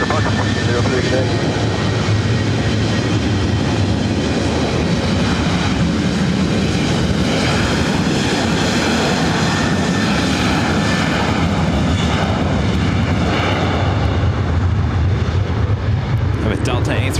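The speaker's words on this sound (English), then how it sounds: "With Delta A321neo next up for takeoff." A Delta Airbus A321neo jet takes off at LAX, a loud, steady engine roar that fills the whole stretch without letting up.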